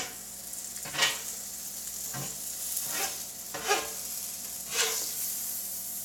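A breakfast sandwich cooks on a large flat griddle with a steady background sizzle, broken by four swelling scrapes and stirs of a spatula across the hot surface at close range.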